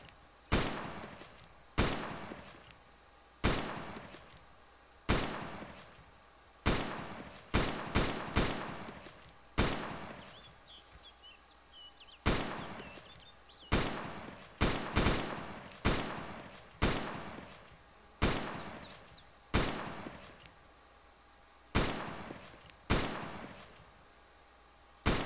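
Gunfire in the military survival game Arma 2 Epoch, set on the Chernarus map: a long run of sharp single shots, some in quick pairs and bursts, ringing out at fairly even intervals with no talking.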